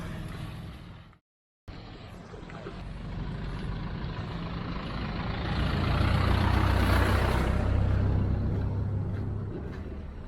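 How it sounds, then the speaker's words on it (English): Heavy trucks and cars cross a bridge over the Misahualli River at Puerto Misahualli in Ecuador's Amazon, making a loud, steady engine rumble that drops out briefly near the start and then swells as the vehicles pass. "Traffic jam of the day on the bridge over the Misahualli."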